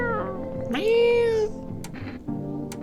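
A cat in the No, I'm Not Human video game lets out a single loud, rising meow that holds for about half a second, followed by softer game noises and clicks.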